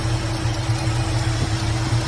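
A Chevrolet Caprice engine idles steadily nearby, a smooth, even low hum and rumble with no gaps throughout.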